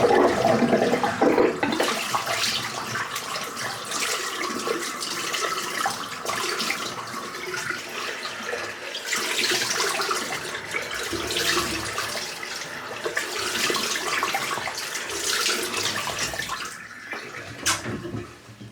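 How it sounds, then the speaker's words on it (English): Water drains from an emptied sink with a gurgling, rushing flow that swirls loudly up close, easing slightly near the end before a final burst, with no talking. "Just empty the sink out."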